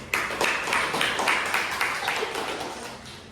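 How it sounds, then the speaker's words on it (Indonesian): Classroom applause after a question session in a learning-environment podcast: a steady patter of many hands clapping, fairly close and even in level, with no talk over it. "Tepuk tangan untuk semua pertanyaan kita"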